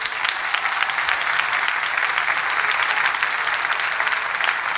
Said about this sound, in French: On applaudit mon Dieu pour thème ça.